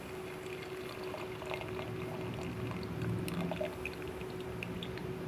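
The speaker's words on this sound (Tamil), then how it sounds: "இப்போ டிக்காசனை ஒரு பாத்திரத்தில் வடிகட்டிக்கலாம்." Tea decoction is strained into a vessel, making a steady, continuous liquid pour and trickle with a faint hiss, close by and without talk.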